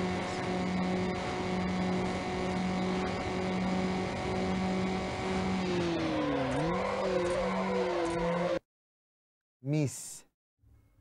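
A car engine in the racing video game Need for Speed Underground revs hard and steadily through about eight seconds. The pitch dips and climbs again at a gear shift, then cuts out abruptly, followed by a short whoosh.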